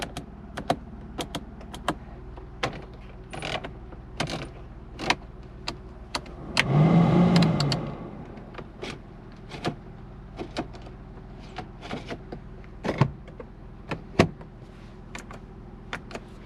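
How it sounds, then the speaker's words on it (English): A steady series of sharp little plastic clicks from a Kei car's switches, with a brief whirring hum of a power window motor running for about a second midway. "Everything in this car is so clicky, like listen."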